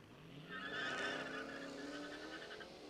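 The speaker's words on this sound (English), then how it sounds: "Scat Pack against Escalade V." A Dodge Scat Pack and a Cadillac Escalade V drift at a drift pit event, their tires letting out a loud, sustained squeal with a warbling, rising tone that lasts for a few seconds.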